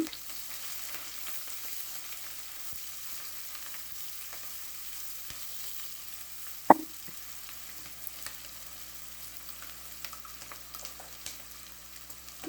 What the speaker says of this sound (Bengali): দিয়ে দিলাম তাহলে সাথে ভাজা হয়ে যাবে পেঁয়াজ